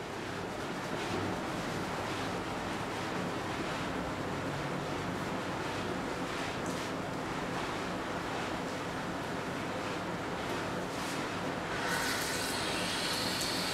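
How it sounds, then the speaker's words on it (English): Running water rinses relaxed hair in a salon, a steady broadband rush of spray continuing unbroken for over a dozen seconds, fairly close, with a brighter hiss toward the end. "Now she's going to rinse her hair"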